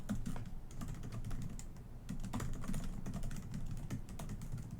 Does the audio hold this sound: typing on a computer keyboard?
yes